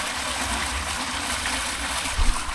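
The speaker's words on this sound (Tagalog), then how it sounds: "So, yan, malakas na yung labas ng tubig." Water gushes strongly out of a fishpond after a barrier is removed, a steady loud rushing roar that continues without a break and swells briefly near the end.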